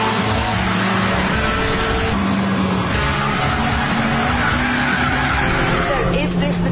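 A Japanese-spec Honda Civic Mugen Type R is driven hard around a race track, its engine roaring loudly throughout with tires skidding and squealing through the corners.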